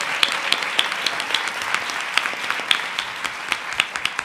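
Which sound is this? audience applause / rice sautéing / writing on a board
audience applause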